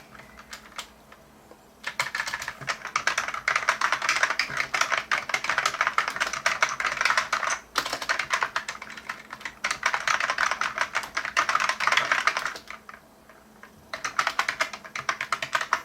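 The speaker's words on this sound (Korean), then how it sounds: "지금 타이핑 소리 들어보셨죠?" Rapid, steady typing on an NKEY P1 membrane computer keyboard with soft, muted keystrokes in long bursts separated by brief pauses, heard close up.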